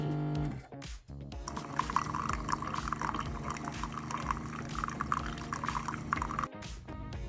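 A Keurig coffee maker brews, with a steady stream of liquid pouring and bubbling into a cup for several seconds, preceded by a brief mechanical hum and clunk.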